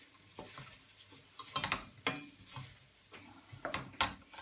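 Butter melting in a pan for French onion soup, giving a soft crackling sizzle with scattered clicks and pops and some handling noise, fairly quiet and without talk.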